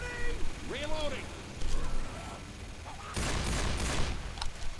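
Sustained minigun fire in Left 4 Dead, a dense rattling burst of gunfire in the second half after earlier scattered game sounds, loud and close with people talking excitedly over it.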